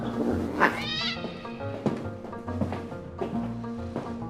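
A cat meows repeatedly in a movie scene, several drawn-out, wavering cries close up and fairly loud, one rising into a caterwaul-like yowl, with no talking over them.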